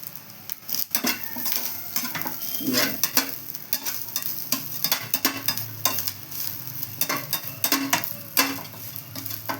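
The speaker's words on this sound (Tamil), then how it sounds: "தேங்காய் நல்லா வதக்கலாம்" Grated coconut is sautéed over low heat in a pan for susiyam sweets, with repeated quick metal scrapes and taps of a spoon over a soft continuous sizzle, close and rhythmic, no voices.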